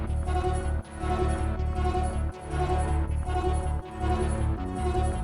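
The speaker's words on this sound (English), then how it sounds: "So altogether, the synths and bass sound like this." Synths and bass from a circuit-bent producer's song play together in a dense, steady groove, with a pulsing low bass line and brief dips in the mix roughly every second and a half.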